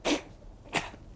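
Two short sneezes in a horror game, the first a sharp burst and the second a quieter one a little over half a second later, heard close and alone.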